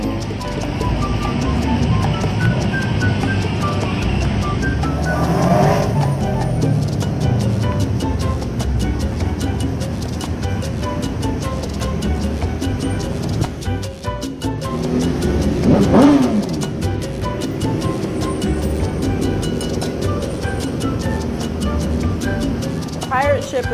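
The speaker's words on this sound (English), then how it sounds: "It's a boat car." An amphibious boat car's engine revs and drones at Clearwater Beach, Florida, rising and falling amid outdoor traffic noise while people talk nearby.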